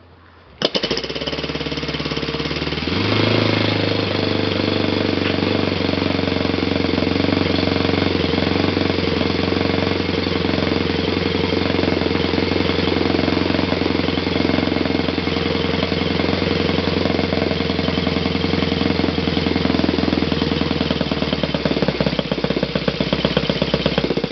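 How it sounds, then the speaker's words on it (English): A Saito FG-21 four-stroke model engine running on glow fuel with an OS Type F glow plug, first turning over briefly, then firing up and holding a loud, steady, rapid-firing drone close by, with no voices. "So let's start the engine and look how it will work."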